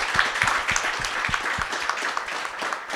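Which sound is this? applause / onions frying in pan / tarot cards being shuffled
applause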